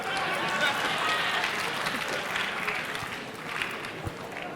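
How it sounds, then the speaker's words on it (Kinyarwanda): An audience claps and cheers at a comedy show, a dense, steady burst of applause called for by the comedian, lasting the whole stretch. "Kubwo igitekerezo cyiza ntanze mu nkomera amashyi."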